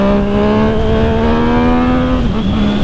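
A motorcycle engine held at a loud, steady high rev with a droning exhaust note. The pitch shifts slightly near the end, and no distinct backfire pops stand out.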